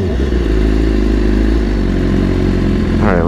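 A BMW S1000RR motorcycle engine running loud and close in a city street, a steady high-revving buzz that rises sharply near the end.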